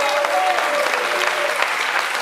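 Audience at a stage show applauding, a dense burst of clapping close by that holds steady for a couple of seconds, with faint voices mixed in.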